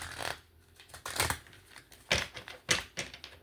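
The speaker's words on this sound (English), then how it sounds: "One more shuffle for the Nine of Wands." Tarot cards being shuffled by hand during a Celtic Cross reading, giving a series of crisp riffling and slapping bursts of papery clatter at irregular intervals, close and fairly quiet with no talking.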